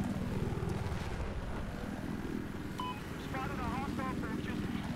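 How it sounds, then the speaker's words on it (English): A scout helicopter drones with a low, throbbing rotor and engine rumble throughout a Battlefield 4 match, while someone talks over it and brief chirping electronic tones sound near the end. "Enemy scout heli right there."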